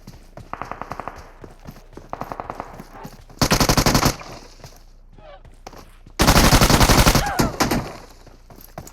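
Video game gunfire comes in rapid automatic bursts: two lighter rattling volleys, then two loud, dense sustained bursts close up, with brief quiet stretches between.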